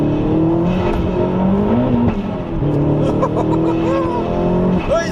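A Vauxhall Astra VXR Nurburgring Edition accelerates hard, its loud engine note climbing and dropping through gears up close, with a voice talking over it.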